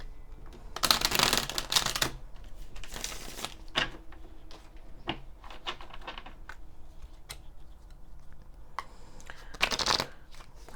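Tarot cards are shuffled close by in several loud riffling bursts, separated by quieter taps and small handling sounds.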